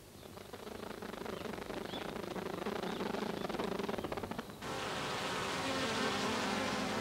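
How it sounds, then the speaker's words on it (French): Honeybees buzzing inside the dark hollow of a tree hive, a dense continuous drone close up that shifts abruptly to a brighter, busier hum. "Tandis que les abeilles les plus matinales reviennent de leur exploration et dansent, une nouvelle vague s'envole de la ruche"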